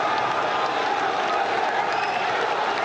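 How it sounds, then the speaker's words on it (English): A stadium crowd roars in an FC football video game, a dense, continuous wash of cheering and applause at steady high volume with no gaps. "look at some of the people in the crowd going absolutely crazy"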